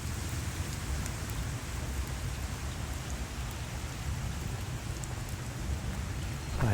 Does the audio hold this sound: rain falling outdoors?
yes